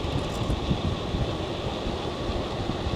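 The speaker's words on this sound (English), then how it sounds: "it's cold and windy." Wind roars and buffets steadily and close in a bicycle rider's ears while freewheeling fast down a cold, windy hill on a Varun M24-1, a dense, unbroken rush with no talking.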